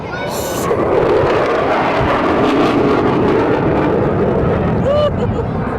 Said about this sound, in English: Look at the jet. Look how fast it goes.